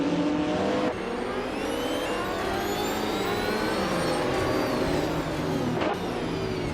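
Several race car engines roar together at the start of a short-track race in a racing video game, a 1989 Ferrari F40 competition car among them, with sustained loud revving and rising pitch, a brief dip early on, and no talk.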